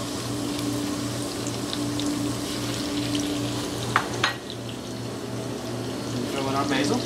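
Shrimp hitting a very hot pan with garlic, a steady sizzle and frying hiss over a low hum, with a couple of sharp clatters midway and the sizzle swelling near the end.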